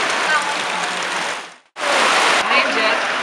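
Steady broadband hiss of rain falling outdoors, loud and continuous, with a brief near-silent gap midway before the downpour resumes at full strength.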